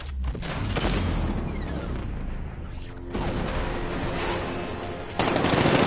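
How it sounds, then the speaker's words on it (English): Heavy 60mm tank cannon blasts boom in a rapid series amid rumbling battle noise and mechanical clatter in the video game Batman: Arkham Knight, loud and dense throughout. "60mm cannon operational."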